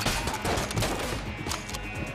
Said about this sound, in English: I'm gonna shoot this bullet with my bullets.